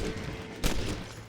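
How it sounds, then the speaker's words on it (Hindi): Gunfire in the video game Red Dead Redemption during a shootout mission in Armadillo: a dense crackle of shots with one sharp louder report near the middle, over a noisy game soundscape. "जो हमारे ऊपर गोली चला रहा है"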